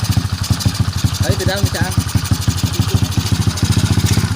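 A custom-built motorcycle with a Honda engine and a racing exhaust idles close by with a fast, even, throbbing pulse, while a voice speaks briefly over it.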